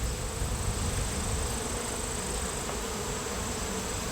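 Honey bees hum in a Layens hive, a dense continuous buzz that holds steady and close with no voices.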